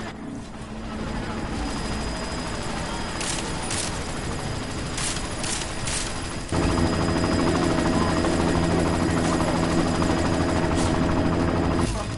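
Helicopter in the video game Deus Ex: Mankind Divided, a steady rotor drone under a dense game mix with bursts of gunfire, growing louder and heavier midway through.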